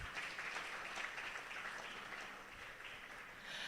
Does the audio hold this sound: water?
no